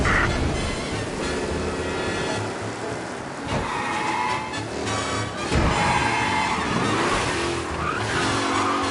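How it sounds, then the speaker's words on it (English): A race car speeds and skids through city streets in Mafia: Definitive Edition, with a steady, loud engine roar and squealing tires that swell and fade over a dense game soundscape. "Officers reporting a race car driving at speed through the city."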